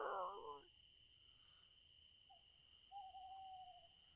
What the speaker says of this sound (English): Owl hooting.